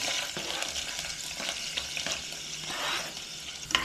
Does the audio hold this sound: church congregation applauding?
no